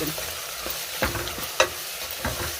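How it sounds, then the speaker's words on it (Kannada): Turmeric, dry chili powder and salt are stirred into food frying in a pan, several close, sharp scraping strokes over a soft, steady sizzle, with no talking. "ಅರ್ಶಿನ ಪುಡಿ ಒಣ ಖಾರ ಪುಡಿ ಆಮೇಲೆ ಕಡೆ ಉಪ್ಪು ರೀ ಮಿಕ್ಸ್ ಮಾಡೋಣ"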